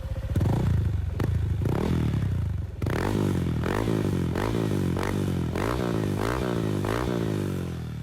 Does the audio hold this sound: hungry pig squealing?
no